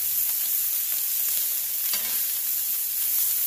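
Already-cooked pastrami warms with oil on a seasoned griddle, giving a steady close sizzle and hiss throughout with faint scraping ticks and no talk.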